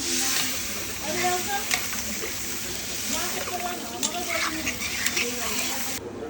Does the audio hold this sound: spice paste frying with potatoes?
yes